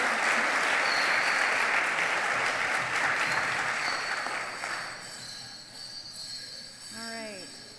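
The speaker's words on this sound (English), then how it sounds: "another round of applause for our dancers" Loud audience applause for dancers and drummers at a book week evening event, dense and sustained for about five seconds before thinning out, with voices and a brief high squeal near the end.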